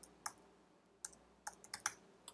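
Quiet computer keyboard typing on a Windows 10 PC, a sparse run of soft, sharp key clicks in small bursts with short pauses between them.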